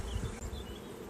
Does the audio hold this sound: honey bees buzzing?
yes